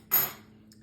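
A knife slices once through a double-baked meatloaf, giving a brief, close scraping cut that quickly fades to quiet.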